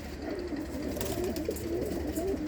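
A red Galar-breed pigeon coos continuously in low, rolling, wavering tones over a constant background hum, close and steady.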